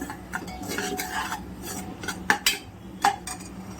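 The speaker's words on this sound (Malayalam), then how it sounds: "ഞാൻ ഇതിലേക്ക് ഒരു 1/4 ടീസ്പൂൺ ടർമറിക് പൗഡർ ഇട്ട് കൊടുക്കാം. എന്നിട്ട് ഒന്ന് ഇളക്കി കൊടുക്കാം." A spoon stirs turmeric powder into veg pulao in a metal pan, giving soft scraping and rubbing strokes with a few sharp clinks of utensil on the pan, close and moderately quiet, with no voices.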